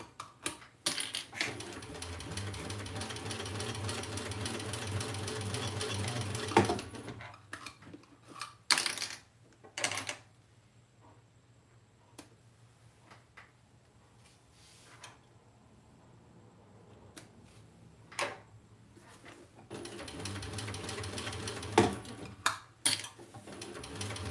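Sewing machine stitching Kaya vinyl fabric for a crossbody bag, with two long runs of rapid mechanical stitching at the start and end, separated by a quieter stretch of scattered clicks and handling noises.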